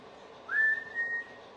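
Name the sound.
imitated whistling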